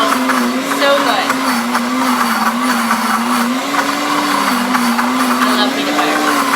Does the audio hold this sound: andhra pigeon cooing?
no